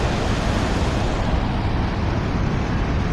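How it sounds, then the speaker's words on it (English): Two waterfalls roar along a 1907 canal on a hike, a loud, steady, unbroken rush of falling water that fills the scene without pause and with no voices. "It's pretty loud here with two waterfalls."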